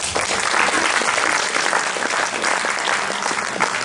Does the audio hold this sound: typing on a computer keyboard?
no